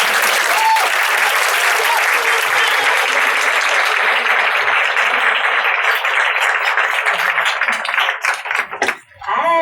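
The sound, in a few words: audience applause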